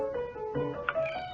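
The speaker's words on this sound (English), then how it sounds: "Oh, there's a cat." A cat in a horror video game lets out a drawn-out, tonal meow that wavers and rises near the end, clear and close, with no talking over it.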